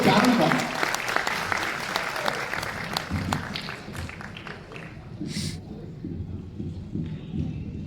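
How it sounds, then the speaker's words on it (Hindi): Dense, sustained audience applause for the poet Ashok Charan at a Hindi poetry stage event, loudest at the start and then easing into steady clapping with a few louder claps near the end. "जरा जोरदार तालियों के साथ अशोक चारण का।"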